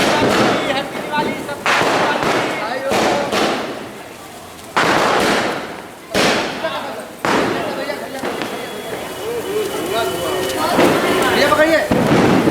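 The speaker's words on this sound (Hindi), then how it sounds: "पटाखा फोड़ी" Diwali firecrackers bursting outdoors in Azamgarh, a series of sharp loud bangs at irregular intervals with crackling and echoing tails, while people talk and shout around them.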